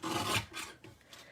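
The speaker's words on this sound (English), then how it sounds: "Yeah, just going to trim this down. With my mini trimmer." Mini paper trimmer slicing through paper, a short close rasping scrape followed by a few fainter brief strokes, quiet and without speech.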